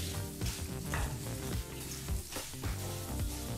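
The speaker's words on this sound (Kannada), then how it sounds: "ಈ ರೀತಿ ನೆಲ್ಲಿಕಾಯಿನ ಫ್ರೈ ಮಾಡ್ಕೋಬೇಕಾದ್ರೆ ಮೀಡಿಯಂ ಫ್ಲೇಮಲ್ಲಿ ಫ್ರೈ ಮಾಡ್ಕೊಳ್ಳಿ." Amla (Indian gooseberries) fry in a pan over medium flame for chutney, a loud continuous sizzle with rhythmic stirring scrapes and knocks recurring about every half second, close and without talk.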